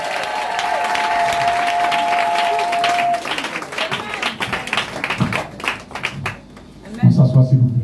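A church congregation at a New Year's Eve vigil applauds and cheers loudly in sustained clapping, fading into scattered claps, while voices call out over it.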